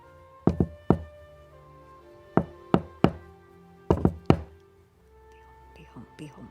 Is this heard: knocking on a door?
yes